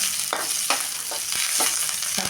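Onion frying in oil for a black-eyed pea palya, with a loud, close, continuous sizzle and rhythmic scraping strokes of a spatula about twice a second.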